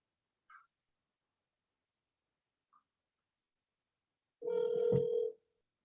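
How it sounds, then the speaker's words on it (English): A phone call is placed from a quiet room: two faint short beeps are followed by a single louder ringing tone lasting under a second, with silence between them. "I'm gonna give you a call here in a second."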